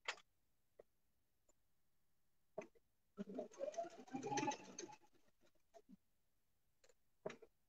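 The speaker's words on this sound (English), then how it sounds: "We're just gonna slowly start stitching the perimeter of our pocket." A sewing machine stitches around the edge of a patchwork pocket in one short, steady run of about two seconds mid-clip, with scattered clicks and light handling noises in otherwise quiet surroundings.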